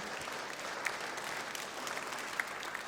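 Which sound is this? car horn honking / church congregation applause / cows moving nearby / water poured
church congregation applause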